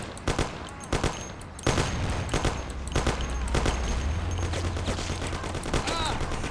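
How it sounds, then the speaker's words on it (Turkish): Bursts of gunfire from the Mafia game, set during a restaurant raid, crack out repeatedly in rapid volleys and single shots over a low engine-like drone, with some talk faintly mixed in. "Babaya da sıkıyorlar bir yandan."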